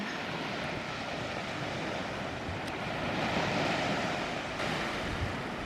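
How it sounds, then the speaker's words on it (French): Sea waves breaking on a beach where a freshwater stream runs across the sand into the sea, a steady broad wash of surf with a swell midway, windy and continuous, no talk. "Il y a un ruisseau d'eau douce qui court sur la plage et puis se déverse dans la mer."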